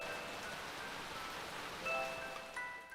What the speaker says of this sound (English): Don't you think the rain's getting a little heavier?